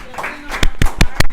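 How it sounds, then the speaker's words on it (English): A few sharp, separate claps ring out from a small group at a homeless encampment task force meeting, spaced irregularly, with a voice talking faintly underneath at the start. "Round of applause"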